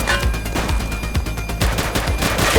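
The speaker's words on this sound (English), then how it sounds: "He's shooting!" Rapid gunfire from a police shootout in the video game The Precinct crackles in dense bursts of loud, close shots with no talking.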